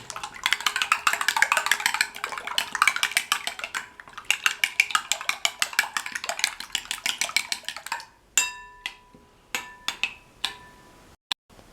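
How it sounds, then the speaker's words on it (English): Egg and curry leaves beaten in a bowl for an omelette, a rapid run of utensil clicks against the bowl, then a pause and a few slower, separate taps and scrapes. "Mix curry leaf with the egg."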